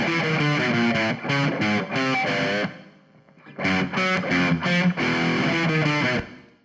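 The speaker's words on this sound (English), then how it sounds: "if we were to listen to just the left pan guitars without their effects return" Hard-left panned electric guitars heard dry, without effects: distorted chugging chords in rhythmic bursts, a short pause mid-phrase, then the riff resumes, loud and alone.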